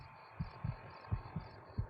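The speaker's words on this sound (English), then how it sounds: "Hear that heartbeat back there in the background?" A muffled heartbeat pulses in low thumps from a Fallout New Vegas game, with about five beats in under two seconds over a faint background hum.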